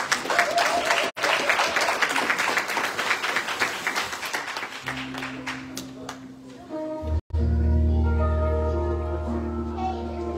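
Applause from a church congregation during a Missionary Baptist worship service, a broad wash of clapping that swells for about five seconds and then fades as sustained organ or keyboard chords take over.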